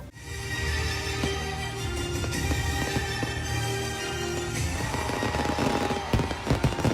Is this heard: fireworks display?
yes